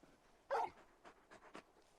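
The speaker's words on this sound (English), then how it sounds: "You're just a big puppy, aren't you? A very big puppy." A large dog in the Final Fantasy 16 video game gives a short huff and soft pants, one louder breathy burst followed by a few fainter breaths in a quiet scene.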